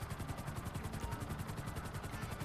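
Helicopter in GTA 5 Online skimming low over a mountain, a steady rhythmic rotor chop with a continuous engine whine, fairly distant and even in level throughout.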